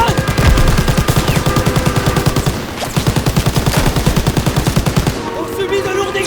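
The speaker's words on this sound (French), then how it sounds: "Mitrailleuse!" Machine gun fire in the Call of Duty WWII campaign, during a fight around a train wagon: loud, rapid, rhythmic bursts that run almost without a break, with a short lull and raised voices underneath.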